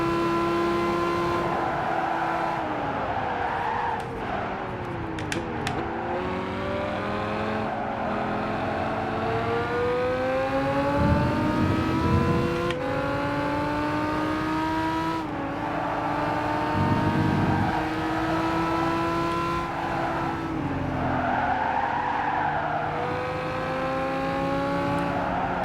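A race car in Gran Turismo 5 roars loud and close, its engine pitch climbing as it revs through the gears and dipping at each shift, over a steady hum of tyre and road noise.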